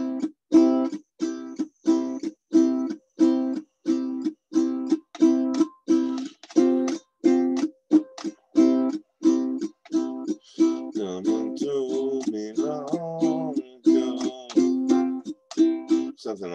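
Steady rhythmic guitar strumming with crisp percussive muted hits between chords, a down-up pattern that loosens into busier picking near the end.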